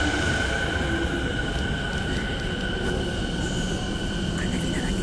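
Steady low rumble and broadband noise inside a moving train carriage, continuous and fairly loud throughout, with people's voices faintly mixed in.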